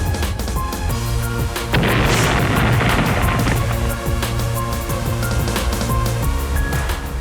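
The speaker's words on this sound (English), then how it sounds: "When under fire, the tank has defensive missiles at its disposal to destroy approaching enemy missiles in the air." Defensive missiles from a main battle tank intercepting incoming enemy missiles in the air, heard as a dense, continuous roar of blasts and crackling bursts, loudest in a heavy surge near the middle, with no speech.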